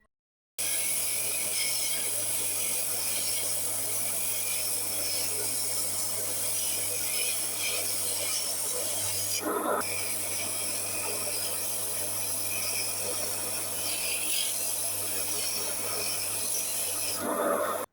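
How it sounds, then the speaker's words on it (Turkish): Continuous gritty rasping of a kuka nut being rubbed back and forth on sandpaper while shaping prayer beads, close and steady, with a low hum beneath. "Kuka'nın zımparadaki sesini o kadar çok seviyorum"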